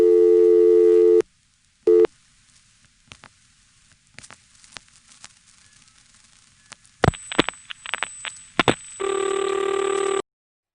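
Telephone line tones from a GTE/Leich CXP-5 exchange call to 511: short steady beeps separated by clicks and faint line noise, then a sharp tone burst and another sustained tone near the end.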